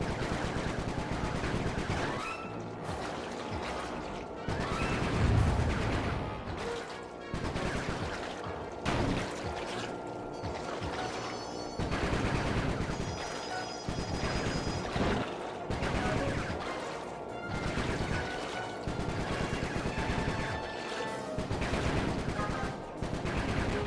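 Shooting in the video game Sly Cooper 3, repeated bursts of gunfire pulsing in regular waves over a dense, continuous game soundtrack, no clear talking.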